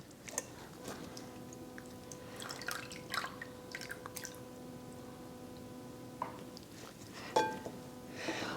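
Meat juice from jerky strips dripping through a strainer into a pan, scattered soft wet drips and squishy ticks at close range, quiet and irregular throughout.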